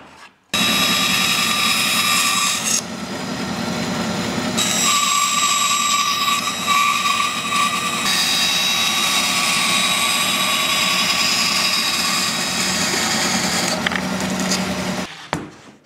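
A band saw cutting a wooden part in a home workshop, a loud continuous whining roar that starts abruptly, shifts pitch slightly as the cut changes, then stops.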